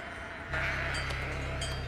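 Sheep bleating nearby, a single sustained nasal bleat with a wavering tone that starts abruptly and carries on for over a second.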